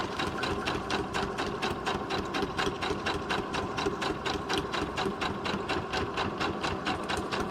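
A sewing machine stitches through paper in fast, evenly spaced needle strokes, a close, crisp rhythmic clatter that holds steady throughout with no voices.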